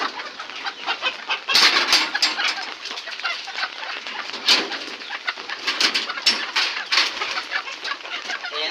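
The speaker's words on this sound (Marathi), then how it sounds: "तुम्ही बघताय, हे आपले कोंबडे आहेत आणि आपल्या प्युअर गावठी कोंबड्या." Free-range village chickens and roosters on a small Konkan poultry farm cluck and call in a busy, continuous chorus, with louder nearby squawks rising over the steady background of birds.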